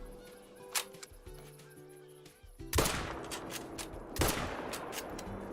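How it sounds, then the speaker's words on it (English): Two sharp .22 Hornet rifle shots in a goose hunting video game, a few seconds apart, each loud and close with a short ringing tail, after some faint goose calls. "I think the 22 Hornet might be my favorite Goose Gun now."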